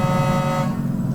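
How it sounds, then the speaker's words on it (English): A Peterbilt 281 truck's air horn in American Truck Simulator blares in one loud, steady honk about a second long, cutting off abruptly with a faint rumble left beneath. "It's actually a good horn."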